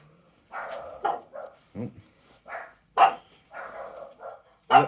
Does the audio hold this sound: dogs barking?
yes